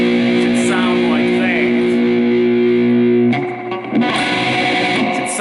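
An in-tune electric guitar chord played through distortion and effects sounds loud and thick, sustained for about three seconds before it changes, then more strummed distorted chords follow.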